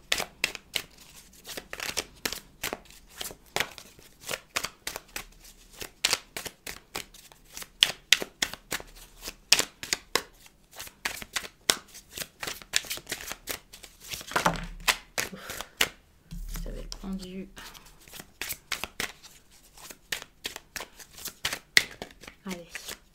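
Tarot cards are shuffled and laid out on a table in a steady stream of soft, rapid flicks and slaps, while someone speaks French quietly throughout.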